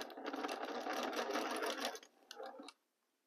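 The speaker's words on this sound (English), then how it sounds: "I hold the fabric with pins and we are going to sew again a quarter of inch." Sewing machine stitching pinned fabric pieces together with a quarter-inch seam for a pinwheel quilt block, a steady close whirring run for about two seconds, then a shorter burst before stopping into silence.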